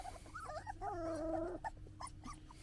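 A litter of hungry puppies whimpers and yips just before a feeding, a cluster of high, wavering whines overlapping at close range, with no talking.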